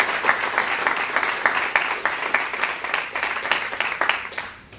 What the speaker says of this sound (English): So let's give ourselves another round of applause.